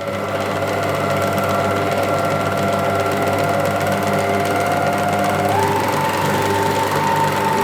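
Electric stand mixer cranked up and kneading pizza dough, a steady loud motor whine with a constant mechanical hum that holds throughout, rising slightly in pitch toward the end.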